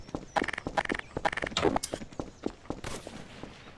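Gunfire in the Garry's Mod sandbox game, a rapid run of sharp close shots in bursts with a steady rhythm, thinning toward the end.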